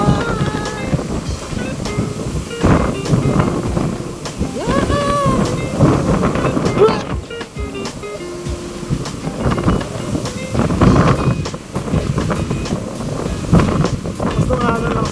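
Strong wind buffets the microphone on the open deck of the cruise ship Costa Serena at sea, rumbling in gusts throughout while people talk and laugh over it.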